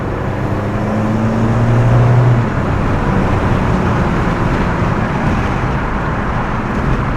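A car bought at auction being driven along a road, running without loss of power or rough idling, giving a steady loud interior rumble of engine and road noise with a brief low hum early on, without talk.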